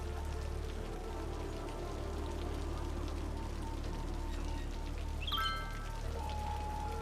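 Steady rain falls across a city in the Cities: Skylines video game, a continuous soft patter on surfaces under a low rumble, with a brief chime-like tone near the end.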